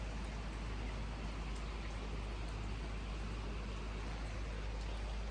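Steady outdoor rainfall with a dense, even hiss and low rumble throughout, constant in level and moderately faint, no speech.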